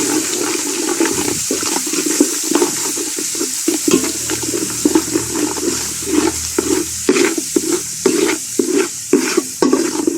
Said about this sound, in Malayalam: അത് നല്ലവണ്ണം വഴണ്ട് കളറൊക്കെ മാറി വരണം. നല്ല പോലെ ഇളക്കി കൊടുക്കണം.